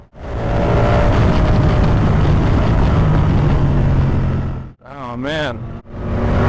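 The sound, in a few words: Ducati motorcycle riding along a California road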